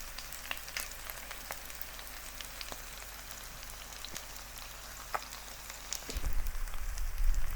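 Continuous crackling sizzle of crucian carp with curry frying in a red pan, with scattered sharp pops, growing louder and rougher toward the end.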